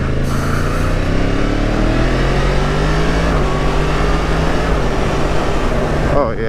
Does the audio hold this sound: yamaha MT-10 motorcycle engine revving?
yes